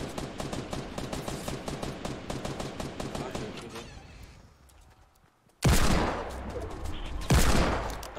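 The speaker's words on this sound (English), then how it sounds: "Downed one with a deagle." Rapid bursts of gunfire in a Fortnite battle royale match, a fast regular string of shots fading out, then after a pause two loud close blasts with long decaying tails, as from a Desert Eagle pistol.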